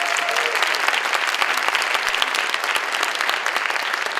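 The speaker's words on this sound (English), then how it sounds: "Can we give them a big round of applause?" Gala audience applauding a band after its performance, a full, dense and steady burst of clapping from a large crowd, with no voices over it.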